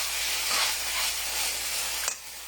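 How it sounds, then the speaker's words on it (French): Chicken and broccoli sauté with teriyaki maple sauce sizzling in a pan while being stirred, a steady close hiss with soft scraping that cuts off abruptly near the end. "Et je vais mélanger tout simplement."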